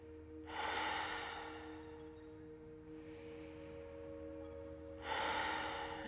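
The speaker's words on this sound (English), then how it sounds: "you might take a few rounds in through the nose and out through the mouth" Yoga breathing, drawn in through the nose and let out through the mouth: slow, soft, airy breaths heard close in a quiet room, two stronger exhales framing a gentler one, over a faint steady hum, with no talking.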